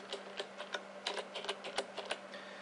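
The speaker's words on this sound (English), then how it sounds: "So you simply type in your username and the password." Quick, uneven keystrokes on a computer keyboard as a username and password are entered for an FTP login; light clicking taps come in short bursts at a close, quiet level with no talking.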